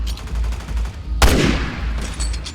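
A sudden loud gunshot burst in the video game Resident Evil 6 that cuts sharply through a steady low background hum, then fades into a noisy decay lasting about a second.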